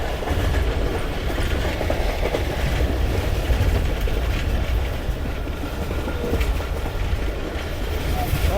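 Pakistan Express passenger train running along the track, a steady, close rumble with rhythmic clickety-clack from the wheels, heard continuously from on board.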